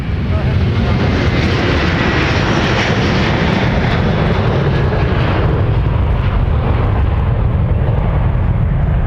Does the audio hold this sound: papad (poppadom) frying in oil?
no